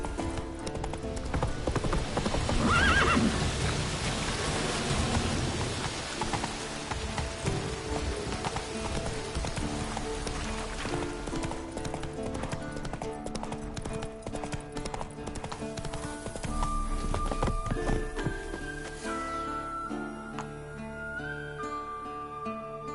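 Galloping hooves in The Witcher 3 drum steadily beneath a swelling musical score, louder early on and then fading into the music.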